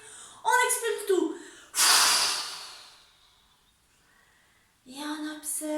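A forceful exhale during a sophrology breathing exercise, one long rushing breath of air lasting about a second, set between a woman's calm speech before and after.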